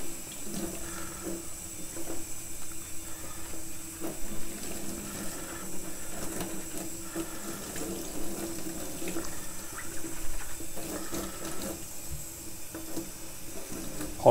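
Hot tap water runs steadily from a faucet, rinsing a silver-plated nickel silver piece in a sink, a constant close splashing hiss with small clinks.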